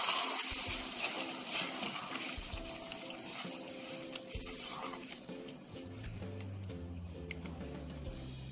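Tomato sauce being stirred in a frying pan after frying, with a soft continuous sizzle and scraping stirs, close and steady without talk.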